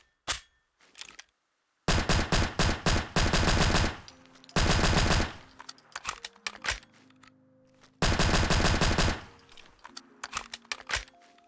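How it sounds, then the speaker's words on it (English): Modded pistol gunfire in Fallout 4, loud rapid bursts of shots in several volleys separated by pauses and reload-like clicks, with no talking. "This is actually a pistol I'm not really familiar with, so I was excited to play with this thing and get to use it a little bit in game."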